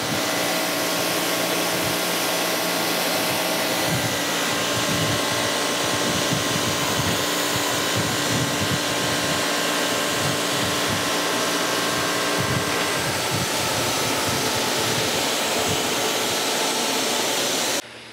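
A surface grinder runs in slow mode across the base of a Kurt vise, holding a steady loud broadband whine with no break for nearly the whole stretch before stopping abruptly at the end.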